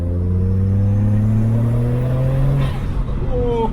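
A car accelerates hard from inside the cabin, its engine note climbing steadily in a loud, continuous pull before easing off near the end, with a voice talking briefly.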